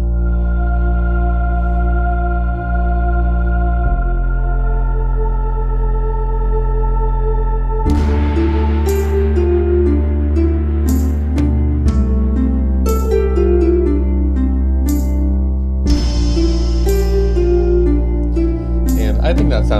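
A dungeon synth song built in BandLab plays: sustained harp and bass layers, then a looped sampler part enters partway through, adding brighter plucked notes over the steady low drone.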